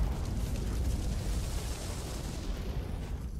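A building set ablaze by a character ability in the video game The Vampire Legacies 2 gives off a deep, steady roar of burning flames, loud and rumbling, easing slightly toward the end.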